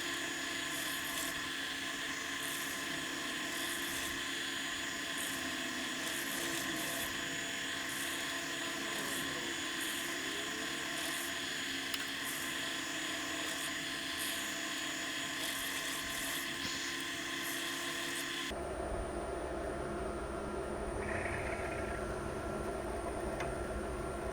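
A milling machine plunges a rectangular cut into metal, giving a loud, continuous whine and grind that holds steady for a long stretch, then shifts to a different, rougher tone near the end.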